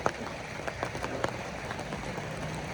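Rain pattering steadily on a surface, a faint, even hiss broken by scattered sharper drips and taps, with no voices.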